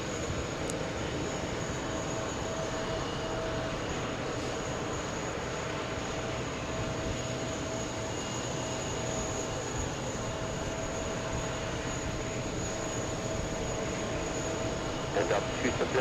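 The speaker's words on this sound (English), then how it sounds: "Swiss from Zurich, A330 coming up." A Swiss Airbus A330 from Zurich on approach to JFK, a steady broadband jet roar holding at an even level throughout, distant rather than close, with no talk over it.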